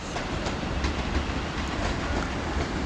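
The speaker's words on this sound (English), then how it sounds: "Now coming in onto platform 6 from" A train arrives at a platform of Guildford station, its wheels rumbling and clattering over the rails in a steady, close, broadband roar without any pause.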